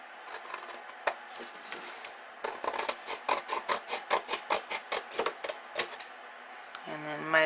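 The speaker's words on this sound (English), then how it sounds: "Now we can cut out those 1/2 inch sections that do not have score tape." Scissors snip through paper sections during a mini album craft project, a run of about a dozen quick, crisp cuts in close succession, close by, while someone talks.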